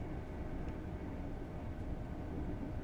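An LNER Class 801 Azuma train accelerating in Train Sim World 4 gives a steady, even low rumble of rolling stock and traction that holds at a moderate level throughout, with no talk.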